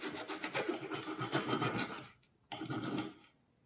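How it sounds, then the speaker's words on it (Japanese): A knife cutting an Italian takeaway pizza into bite-size pieces, a close scraping rasp that runs for about two seconds, pauses, and then comes back briefly. "一口サイズに切って食べます"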